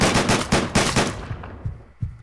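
Rapid automatic gunfire from the Deadbolt video game fires in dense loud bursts for over a second, then fades into a few scattered, quieter shots and thuds.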